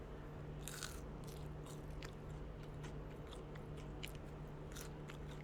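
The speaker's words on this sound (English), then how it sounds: "these have a good crunch" Crisp, close bites into freshly fried French fries for poutine, a run of sharp crunches in irregular bursts over a steady low hum, with no talking.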